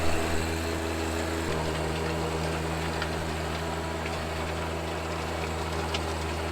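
A Deere 1025R compact tractor engine runs steadily while tilling dry, dusty soil beside a slope, giving a constant close, loud drone with a low hum and no talk.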